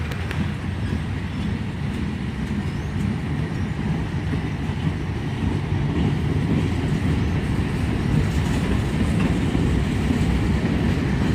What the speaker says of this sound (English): He's really slowing down now due to the other two trains in the siding.